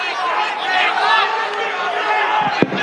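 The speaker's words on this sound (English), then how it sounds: "you've heard the boos, you've heard the crowd" Dense crowd noise at a UFC 284 pre-fight press conference, a loud sustained roar of booing and shouting voices with one sharp knock near the end.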